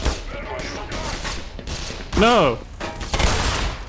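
Shotgun blasts in the Black Mesa shooter game, a few heavy booming shots amid game noise, with someone shouting briefly over them.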